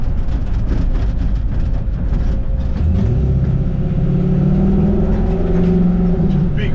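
A 1960 Ford F100 truck fitted with a 5-liter Mustang engine revs up loudly and close, the engine tone climbing and holding at a raised pitch after a rougher start.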